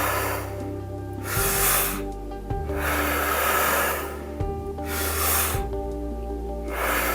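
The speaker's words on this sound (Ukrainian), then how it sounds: "повне свідоме вдихання в живіт, в груди і відпускаєш" Deep, deliberate breaths in and out, each a long rushing inhale followed by an exhale, repeating in a steady rhythm about every two seconds, close and fairly loud over a low sustained background tone.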